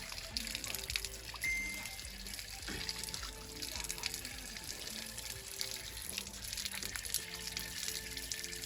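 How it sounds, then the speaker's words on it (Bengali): Mangoes are rinsed under a running water tap, steady splashing and trickling water close by with light knocks and handling sounds, a faint voice murmuring beneath. "চলে এসেছি কলতলা পারে, আমকোটা একটু ধুয়ে নেবো।"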